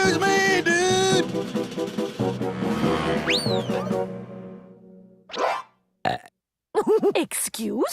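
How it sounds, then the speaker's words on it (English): A cartoon dog lets out a long, loud, wobbling burp with rising and falling pitch, followed by short bursts of cartoon sound effects and a brief exclamation after a gap. "Did you just burp?"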